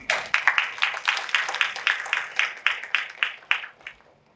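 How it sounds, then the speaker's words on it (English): Applause from an audience after a talk on platform strategy: a run of about fifteen sharp, evenly spaced clap bursts that fade out over a few seconds, with no voices. "Junichi, let's give him an applause."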